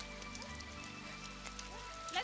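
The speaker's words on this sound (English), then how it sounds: "It's raining again." Steady rain falls throughout, a continuous wash that sits under music and a voice in a dramatic scene.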